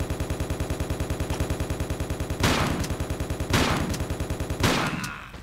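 Sustained automatic machine gun fire from the video game Tomb Raider IV: The Last Revelation in the Trenches level, a rapid steady stream of shots punctuated by three heavier bursts, loud and close, with no talking.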